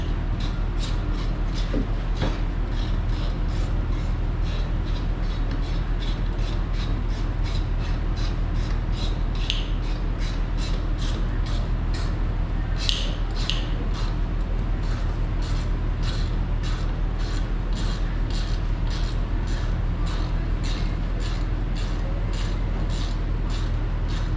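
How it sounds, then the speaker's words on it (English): A ratchet tightens a fitting on a Ford 5600 tractor during an annual service, giving a long run of rapid, evenly spaced clicks over a steady low rumble. "grab the ratchet, we're going to bring this tight."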